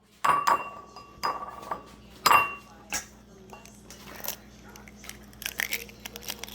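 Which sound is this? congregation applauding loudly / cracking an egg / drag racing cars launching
cracking an egg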